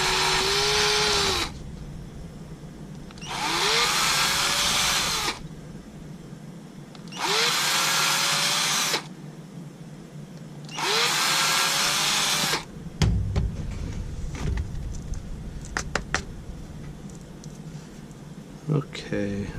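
Power drill boring holes in stripboard for an Orange Squeezer guitar pedal build, four loud whining bursts of a few seconds each with a rising pitch, followed by clicks and handling noise.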